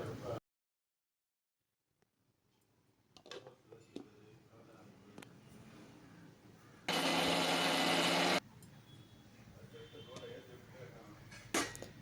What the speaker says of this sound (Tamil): மிக்ஸி ஜாரில் போட்டு அரைச்சிக்கிறோம்.